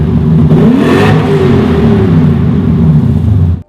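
Lexus LS400, a 1990s luxury sedan, with its engine revving steadily and loudly up close, a smooth continuous drone for a few seconds before cutting off abruptly at the end.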